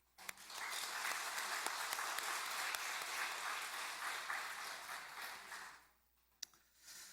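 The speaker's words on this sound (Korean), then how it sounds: "우리 할렐루야 찬양대 또 주일 경배 찬양팀 축복하고 격려하는 박수 합니다." A church congregation claps for the choir and worship team during a Sunday service, steady and even at first, then fading out near the end with a few scattered claps.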